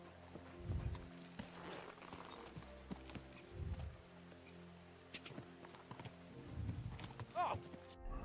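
Horse hooves clip-clopping in the medieval video game Kingdom Come: Deliverance II, a run of fairly close hoofbeats in uneven bursts with brief snorting and a faint whinny, no talk.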